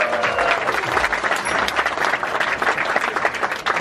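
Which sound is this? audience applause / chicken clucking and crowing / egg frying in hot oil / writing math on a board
audience applause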